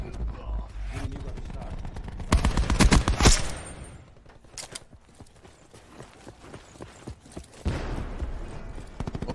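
Automatic gunfire in Call of Duty Black Ops 4: loud, rapid bursts of shots in two main volleys, separated by quieter clattering movement.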